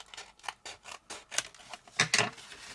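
Scissors cut a wedge out of paper, about a dozen crisp, close snipping crunches in quick irregular succession, the last few louder and sharper.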